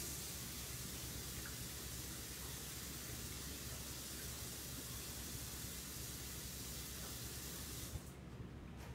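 Steady broadband rush of tap water running over hands at a kitchen sink after handling hot peppers, continuous and fairly loud, cutting off abruptly near the end.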